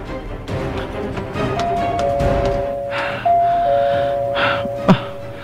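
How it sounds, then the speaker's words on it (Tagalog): Electronic doorbell chimes ringing at a closed gate outside a house, a sustained two-tone ding sounding several times in a row, fairly close and clear, with a soft breath or gasp near the end. "Suwayin akong doorbell."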